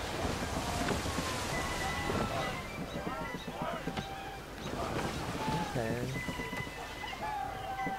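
Blustery crosswind and creaking sailing ship at sea in Assassin's Creed III, with steady wind roar, water wash and scattered shouted crew voices calling orders over the noise.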